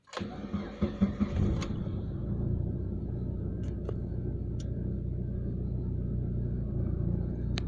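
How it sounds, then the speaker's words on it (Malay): An old car's engine cranks and catches on a cool morning cold start, a few rough bursts, then settles into a steady rumbling idle close by with occasional faint clicks. "Kita tengok cold start lah. Okay, boleh start lah."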